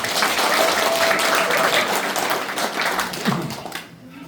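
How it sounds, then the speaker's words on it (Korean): Audience applause from party members at a Democratic Party local committee education session in Cheongju: a dense, steady burst of clapping filling the room, tapering off and fading out over its final moments. "다시 한번 큰 박수 한번 부탁드리겠습니다"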